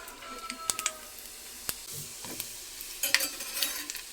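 Tempering seeds hit hot oil in a pan for a drumstick and tomato curry, crackling with sharp scattered pops and clicks over a soft sizzle, nearby and fairly quiet.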